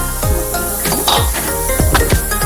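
Mutton goes into a hot pan for a spicy Marathi mutton rassa and is stirred, with repeated metal scrapes and clanks of a spoon against the pan over a steady close sizzle.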